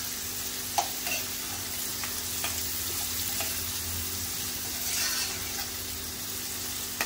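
Onion frying with asafoetida and curry leaves over medium gas, a steady soft sizzle with occasional light clicks of stirring, continuous and fairly close.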